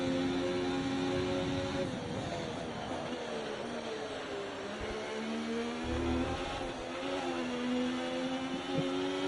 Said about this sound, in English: You hear my car spinning out a little bit.